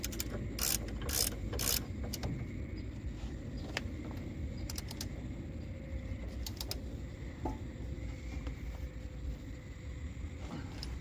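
Ratchet tightening large front brake bolts on a 1995-2007 Ford Econoline van, sharp clicking bursts in quick runs, loudest early then scattered, close up over a low workshop rumble.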